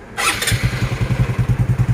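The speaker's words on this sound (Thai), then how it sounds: "ลองฟังเสียงคันแรกก่อน อันนี้ยังเดิมๆอยู่" A 125cc motorcycle engine on its stock exhaust catches and settles into a steady, low, even putter at idle, close by and fairly loud.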